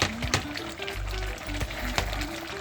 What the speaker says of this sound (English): I'm gonna make a stir so it don't stick in the bottom